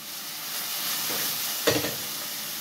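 Chicken feet sauté with onion and tomato in a pan, giving a steady, soft sizzle with a couple of louder stirring scrapes near the end.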